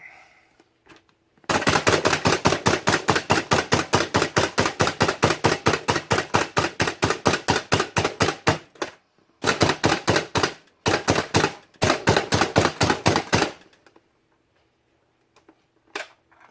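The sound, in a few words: knife mincing food on a cutting board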